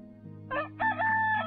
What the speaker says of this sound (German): Der Hahn kräht.